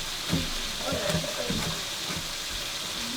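Food sizzling in a pan during cooking, a steady hissing crackle with soft clinks and stirring scrapes layered over it, close by and continuous.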